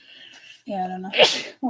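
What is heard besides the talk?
sneeze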